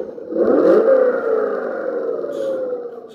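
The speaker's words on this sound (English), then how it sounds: "So this obviously is a car sound instead of a truck." A simulated car engine sound from a model truck's sound unit revs up, its pitch rising sharply then settling into a sustained whirring drone, loud and close.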